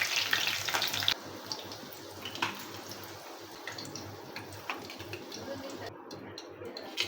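Cauliflower pakoras frying in oil give a steady, fairly quiet sizzle with faint bubbling and crackle that continues through the whole stretch. No voices are heard.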